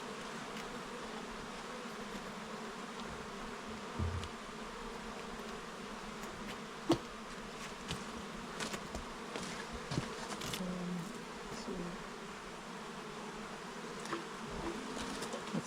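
Honeybees hum and buzz steadily around an open beehive with about ten frames of bees, a quiet, continuous swarm drone with individual bees zipping close past now and then, and a few faint knocks.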